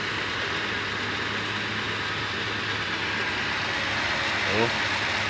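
A Toyota Avanza engine idles with a smooth, even low rumble that holds steady throughout, close by, after an ignition coil replacement. There is no sudden revving or sputtering.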